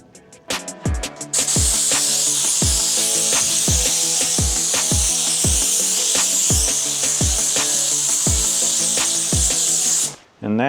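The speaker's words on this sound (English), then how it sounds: "so I'm going to attempt to hand sand in here" Hand sanding of the weld seams inside an aluminum boat fuel tank being prepped for paint: a loud, steady abrasive hiss runs for about ten seconds, marked by regular scraping strokes roughly every half second, then cuts off abruptly near the end.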